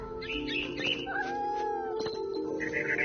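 In the video game What Remains of Edith Finch, a cat meows in a drawn-out, wavering cry over a steady ambient game backdrop.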